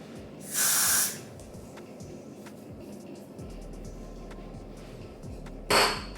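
Two short hissing spritzes from a spray bottle onto a lace frontal wig at the hairline, the first near the start and a second near the end, over quiet background hum.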